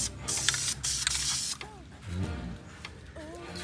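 Bursts of hissing spray as a coating is applied to the transmission of a 1997 JDM Honda Accord wagon turbo build, two long sprays then quieter mechanical clicks and squeaky tool sounds.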